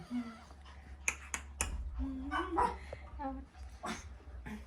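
Dogs barking and yipping indoors in a home, several short sharp barks and whimpers scattered through a few seconds, fairly quiet, with people talking in Thai in between.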